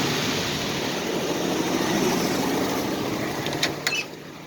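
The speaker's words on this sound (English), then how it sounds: "I admit it doesn't sound that great. It's got an exhaust leak." A Chevrolet C10 truck engine idling high on the choke with an exhaust leak, a steady, dense, rough drone held close and loud for the whole span before easing slightly at the end.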